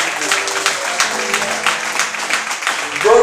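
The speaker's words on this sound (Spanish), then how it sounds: "¿Cuántos pueden dar un aplauso al Señor Jesús?" A church congregation breaks into loud, steady applause, many hands clapping together in a dense, continuous burst that fills the room.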